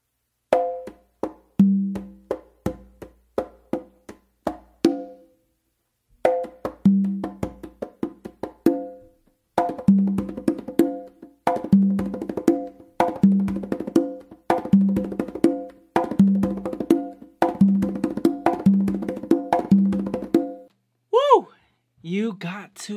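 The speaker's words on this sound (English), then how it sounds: "So to put the whole thing together, it's gonna sound like this." A conga plays a combination of open tones and slaps, rapid rhythmic hand strikes in repeating phrases with brief pauses, close and loud, with a few short vocal sounds at the end.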